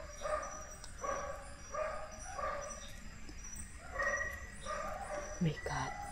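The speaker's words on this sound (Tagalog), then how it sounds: "So may naririnig akong aso." A dog barks repeatedly in the distance at night beside a river, in short evenly spaced bursts over a quiet background with faint insect or bird sounds.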